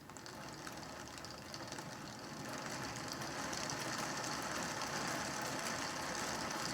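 Small electric motor of an O gauge DJH B1 model locomotive kit running on track, a steady whirring drone that grows a little louder partway through, with no voices.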